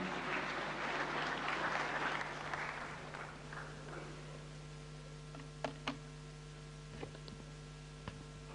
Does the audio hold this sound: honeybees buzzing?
no